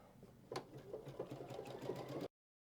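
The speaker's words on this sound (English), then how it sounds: "So now if I run this stitch" A Baby Lock Solaris Vision sewing machine stitching a decorative pattern, starting with a sharp click and then whirring steadily with a fast rhythmic needle patter, close and alone for about two seconds before stopping abruptly.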